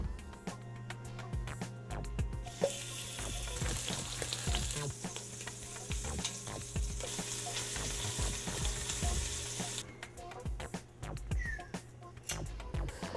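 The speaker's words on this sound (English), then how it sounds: "The first step in braising is actually searing it." Seasoned meat sears in a hot pan ahead of braising, giving a continuous close sizzle and crackle with occasional scraping and stirring knocks that swell and fade in intensity.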